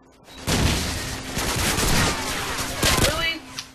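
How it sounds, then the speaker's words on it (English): Dense gunfire in Call of Duty 4 multiplayer, a loud sustained fusillade of rapid shots and bursts lasting several seconds, with a voice talking over part of it. "I'm getting shot."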